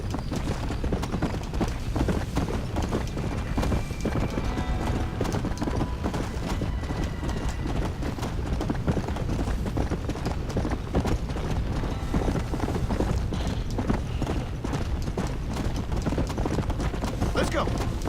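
Undead horse galloping in the video game Red Dead Redemption: Undead Nightmare, a steady rapid clip-clop of hooves running continuously under a voice talking throughout.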